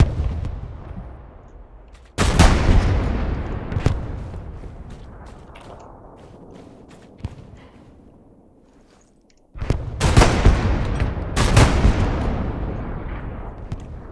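Gunfire and rocket explosions in the World War II shooter Hell Let Loose: loud, sharp blasts with long rumbling tails, several close bursts separated by quieter stretches of distant shots and crackle.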